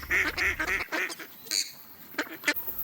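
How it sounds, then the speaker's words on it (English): A flock of ducks at a New Zealand nature reserve quacking in repeated bursts close by, with a busy, somewhat noisy outdoor background. "right away you'll be greeted by an army of ducks"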